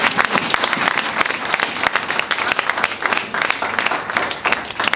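A church congregation at a bishop's gathering in Switzerland bursts into sustained, dense applause, many hands clapping loudly and continuously with faint voices mixed in.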